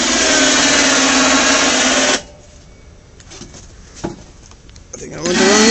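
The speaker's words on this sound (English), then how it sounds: "I just turned the winch on to show you guys that." ATV electric winch on a Yamaha Wolverine running with a steady high motor whine that cuts off abruptly, then quiet handling noises before the whirring starts up again.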